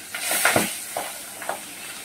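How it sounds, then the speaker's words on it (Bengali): Fish frying in a pan, a steady hiss and sizzle with a few brief louder spits and crackles over a couple of seconds. "এই মাছ ভাজতে তো বিশাল মুশকিল"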